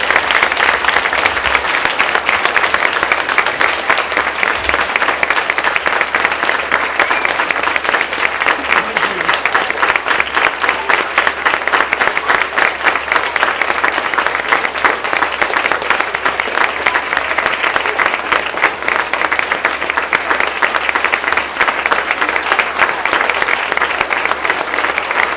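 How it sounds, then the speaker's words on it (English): School audience at a Veterans Day assembly applauding veterans, a steady dense roar of clapping from many hands that holds loud and even for the whole stretch with no talk over it. "So I want you guys to give them a big round of applause."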